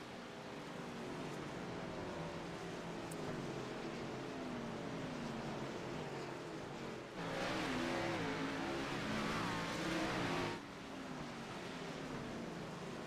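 Race cars roar past on a racetrack during a broadcast race, a steady engine drone that swells louder for a few seconds as cars pass close, then settles back.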